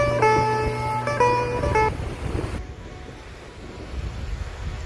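Sea surf and wind roar steadily on a beach where a net is being dragged for mullet. A steady tonal hum sits over the noise for the first two seconds before fading, leaving continuous broadband wash with no talking.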